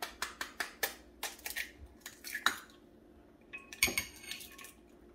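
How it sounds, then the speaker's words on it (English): Eggs for a ham and cheese omelet being mixed in a bowl, a rapid series of close clinking taps from a utensil against the dish, then a brief pause and another short burst of clatter. "I'm gonna add the eggs and start mixing"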